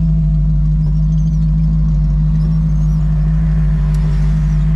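A Chevrolet Chevette fitted with a V8 engine runs loud and close, a steady deep droning rumble with a strong low hum that holds through the whole stretch and no voices over it.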